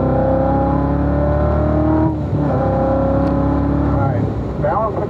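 A Corvette Z06 accelerates out of a corner on a track at Spring Mountain, heard from inside as a loud engine rising in pitch through the gears, with a shift break midway and more revving after, under occasional talk.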